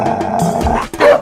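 A dog barks close and loud in a comedic Hindi movie scene, a few gruff barks and yips running together over a short moment with some background sound.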